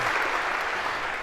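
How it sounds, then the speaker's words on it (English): Applause in a Harvard CS50 lecture hall as students clap for a course preceptor, a dense steady wash of many hands lasting just over a second with no voices. "maybe a round of applause for having choreographed that so perfectly"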